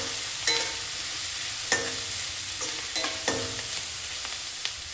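Puffed rice with salt and turmeric is stirred in a pan. A steady dry sizzle runs under several sharp scraping strokes of the spoon, close and moderately loud, with no talking.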